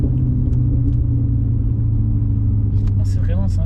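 A 564 hp Cadillac CTS-V V8 coupe with a supercharger gives a deep, steady engine rumble heard from inside the car, loud and continuous, with a few brief voice sounds near the end.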